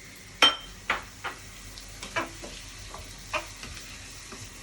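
Chili sauce for telur belado bubbling in a pan, a low steady sizzle punctuated by several sharp scrapes and taps of a spatula stirring at irregular intervals.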